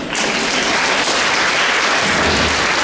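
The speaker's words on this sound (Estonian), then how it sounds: "aga ma lootsin suurema aplausi peale." A crowd at a Christmas celebration claps loudly and densely for about three seconds, applauding a singer, with a steady wash of clapping and no talking.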